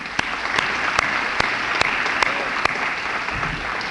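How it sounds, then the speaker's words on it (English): A room of graduation guests applauds town council members at a ceremony, continuous steady clapping with a few sharper individual claps standing out near the microphone, no talking over it. "Let's give them a round of applause"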